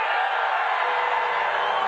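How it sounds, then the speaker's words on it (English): A large crowd at the Libertarian convention booing Donald Trump, a dense, sustained roar of many voices at steady loudness, heard from a distance through a hall. "People are already booing."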